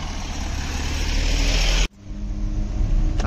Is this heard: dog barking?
no